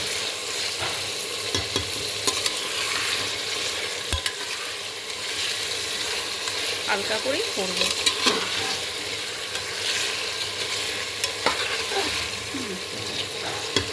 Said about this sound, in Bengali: মাংসটা নেড়ে একটু ভাজা, একটু হালকা ভেজে নিই